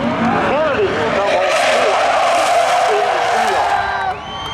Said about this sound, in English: Camaro as they drag race down into turn number 1